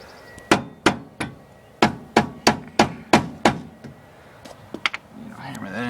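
A new upper ball joint is hammered into a Ford Explorer with a rapid series of about ten loud, ringing metal strikes at a steady pace, followed by a few lighter taps and some clattering.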